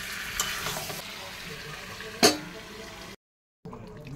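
Broiler chicken meat stir-fried nearly dry in a pan, with a steady low sizzle, scraping stirs and one sharp clatter, fairly quiet, followed by a brief cut to silence.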